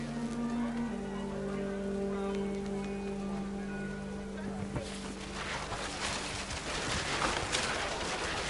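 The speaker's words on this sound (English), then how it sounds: "Rain came down in buckets then" Heavy rain in What Remains of Edith Finch pours down steadily over a humming tent scene, swelling into a dense hiss of drops with faint bird-like calls mixed in.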